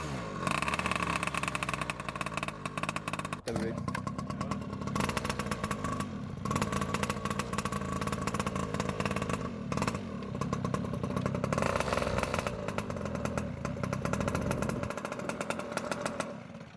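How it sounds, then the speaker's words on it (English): A small two-stroke pocket bike engine, long unused, idles continuously with a buzzy, raspy putter, loud and close, rising a little in places as it warms up, with no one talking. "We just let it run a little bit so the carb would clear up and the little engine could heat up a bit"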